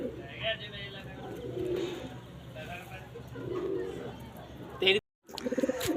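Tanga pigeons coo softly in a low, repeated murmur beneath a man's speech, with a brief dropout near the end.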